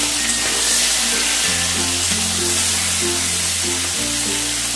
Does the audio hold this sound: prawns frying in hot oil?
yes